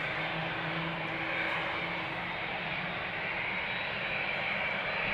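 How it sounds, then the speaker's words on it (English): Aeromexico Boeing 787-9 Dreamliner departing Amsterdam Schiphol runway 36L, a steady broadband jet roar with a low tonal hum, holding constant and loud throughout without pause. "Air Mexico flight 26, Boeing 7879 Dreamliner, indeed, outbound to Mexico City"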